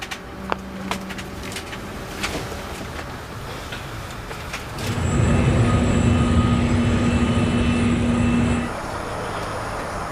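A jet airliner waits in the takeoff queue, its engines droning steadily, then rising into a louder, fuller roar with a whining tone midway before easing back to the cabin rumble.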